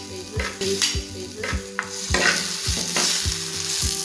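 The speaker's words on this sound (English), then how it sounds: "so that's why I am stir frying these." Vegetables sizzle in a hot pan while being stirred, with regular scraping strokes of a utensil against the metal, close and continuous.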